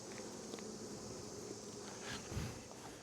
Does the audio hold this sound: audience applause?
no